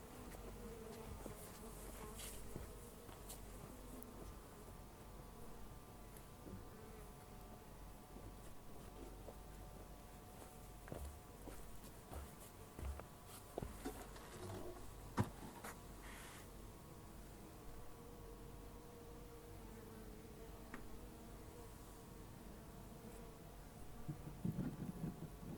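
Bees buzzing around hives in a wilderness garden during a spring check. A continuous, close, layered drone of many wings hums steadily, with occasional louder passes near the microphone and light wind noise.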